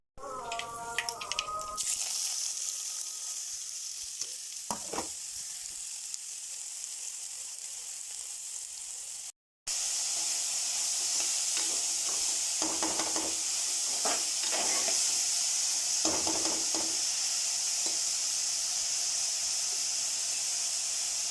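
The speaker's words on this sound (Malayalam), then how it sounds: "പടവലവും സവാളയും കൊത്തിപ്പൊടിച്ചരിഞ്ഞത് ഒരു പാത്രം അടുപ്പത്ത് വെച്ച് കടുവറുത്തിട്ട് അതിലേക്കിട്ട് വഴറ്റി കൊടുക്കാം." Chopped snake gourd and onion sauté in a pan over mustard seeds, giving a steady close hiss and sizzle with occasional scraping stir sounds, broken by a brief gap midway, with no talking.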